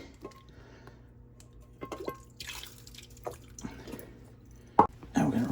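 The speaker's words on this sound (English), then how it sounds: "Rinse this off with some distilled water and get all the tap water off of there" Refined gold rinsed with distilled water in a beaker: soft drips and trickles, faint at first, then louder splashing and sloshing toward the end over a steady low hum.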